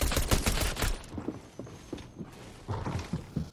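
Pulse rifle gunfire in the video game Fortnite, opening with a loud rapid burst of shots, then scattered fainter shots and thuds in uneven bursts.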